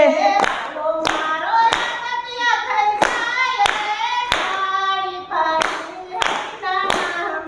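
Sharp hand claps keep a steady beat during a Gujarati kirtan, evenly spaced and loud, ringing under a sung devotional melody.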